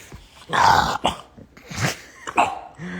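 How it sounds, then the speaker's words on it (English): A dog lets out several rough, hoarse barks and growly huffs, close and irregular, with short gaps between them. "What are you barking at?"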